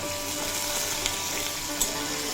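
A large potato, chopped and washed, frying in a pan over a low to medium flame for a Bengali pui shak and fish head dish, giving a steady, close, continuous sizzle with a couple of small crackles and no voices.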